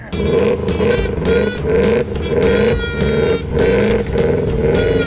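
A Subaru WRX engine, newly started and running after effort to get it going, idles in a steady low drone with a slight rhythmic pulsing throughout.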